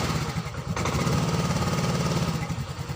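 A Yamaha Mio M3 scooter with its temperature sensor connector unplugged starts and settles into a steady idle, a close, continuous low putter with a brief change in tone at the start.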